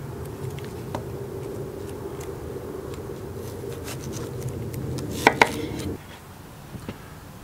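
Red onions chopped with a knife on a board, a steady rapid run of close, crisp blade taps for about six seconds, then a few scattered louder knocks and quiet handling.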